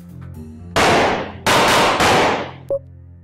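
Three loud, sharp gunshot bursts in the Ballistick video game, each with a broadband blast and a decaying tail. A faint click follows the last one, and the quiet background is game ambience.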